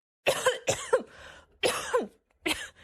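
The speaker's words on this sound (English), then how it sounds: "Yes, I have a cough." A person coughs several times, short harsh bursts close by, in two quick clusters with brief pauses between.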